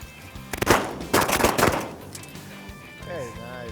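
Gunfire while hunting, a few loud sharp blasts close by in the first two seconds with echoing decay, followed by quieter outdoor sound and a voice.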